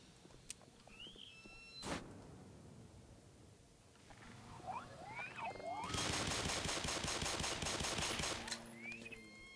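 Machine gun fire in the Black Mesa shooter game, a sustained rapid burst of loud close shots lasting about three seconds, preceded by a single sharp shot and creature-like squeals and game noises.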